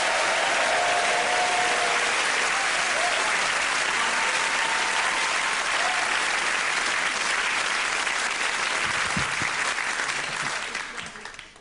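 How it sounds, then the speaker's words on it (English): A theatre audience at the Edinburgh Festival claps and cheers to welcome comedian Stephen Carlin, producing a loud, dense, sustained wash of applause that tails off at the very end. "Please welcome, with your applause, with your hands, Stephen Carlin!"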